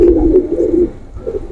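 Pigeons of the banky, kamager and Sialkoti battery breeds coo in a low, throaty, rolling murmur, close and fairly loud, with no voices over it.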